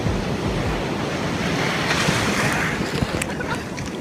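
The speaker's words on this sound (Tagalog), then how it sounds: "So nakaka-enjoy po dito mga kaibigan yung wave kasi ang lalaki." Big ocean surf breaks on the beach at Baler in a steady, loud wash of roaring water with wind buffeting the microphone, lasting the whole stretch without any voices.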